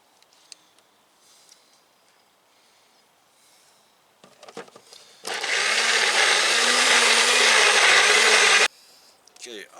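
A blender grinds super-hot C3PO chilies with mango liquid in a loud, steady whir that runs for about three and a half seconds. Before it, there are quiet clicks and handling sounds with some speech, and it stops abruptly.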